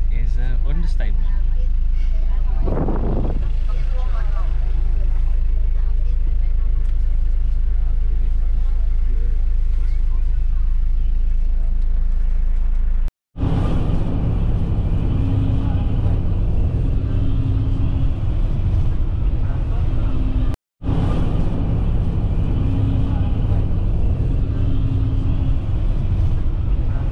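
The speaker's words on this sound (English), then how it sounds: "The bus is now ready to leave, and to say it is fully packed is an understatement." A fully packed bus travels the road from Huay Xai to Luang Prabang, its engine a low, steady rumble and drone that runs throughout, interrupted by two brief cuts, with people talking in the background.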